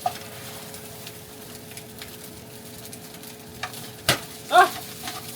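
Oil sizzles faintly and steadily in a pan as fried rice cooks and is stirred, with a few sharper clanks and a brief loud burst near the end.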